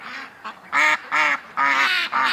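Ducks quack and honk close by in a series of loud, nasal calls, several overlapping bursts with short gaps between them, and no talking.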